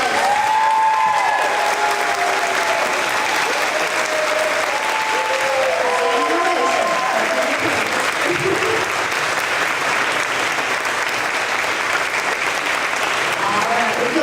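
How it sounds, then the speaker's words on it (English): A large crowd at a fifth grade promotion ceremony gives the graduating class sustained, thick applause lasting the whole stretch, with cheers and shouted voices rising and falling throughout. "let's give our class of 2026 a round of applause"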